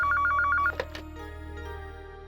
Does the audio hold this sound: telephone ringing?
yes